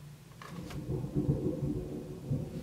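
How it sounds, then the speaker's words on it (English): Distant thunder rumbles low and steady, a rolling, muffled boom that swells and lingers for a few seconds indoors, with no one speaking over it. "that is thunder"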